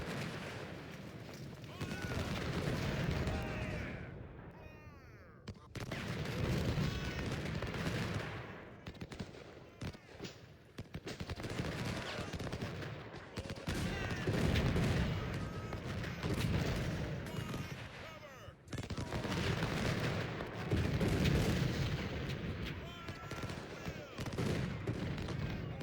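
Battle audio from the Ultimate General: Civil War strategy game, with dense bursts of rifle volleys and booming cannon fire rolling on and off in waves, someone talking now and then over the din.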